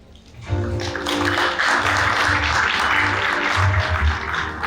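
A round of audience applause at a 1971 batch golden reunion starts abruptly after a quiet moment and holds at a strong, dense level, with a low rumbling hum beneath it.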